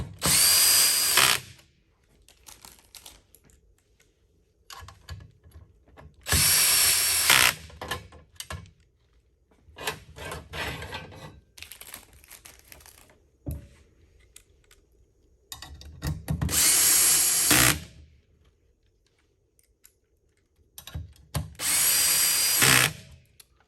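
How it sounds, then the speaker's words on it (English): A power drill drives short screws into a desk frame during assembly, five loud whirring bursts of one to two seconds each separated by quiet pauses with light handling clicks, close up. "Now we're going to flip it over. Put short screws in again."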